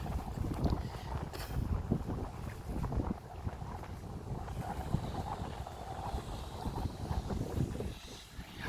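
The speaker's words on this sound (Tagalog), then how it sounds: "malakas na ang hangin" Strong wind buffets and rumbles against the microphone as rain approaches, a constant roaring gust with a low churning undertone, loud and unbroken throughout.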